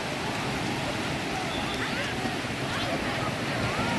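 Sea waves at Ras El Bar beach wash in as a steady, broad roar mixed with wind buffeting the microphone, and a voice is faintly audible in the background.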